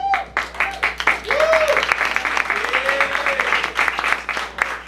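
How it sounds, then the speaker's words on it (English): Applause from an open mic crowd in Waco comes in uneven bursts of clapping, with a voice speaking over it at times. "Give them a round of applause"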